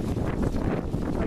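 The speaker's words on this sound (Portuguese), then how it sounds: "Olha que maravilha de vento, gente, ó." Wind buffets the microphone in a continuous low rumble with soft gusty swells.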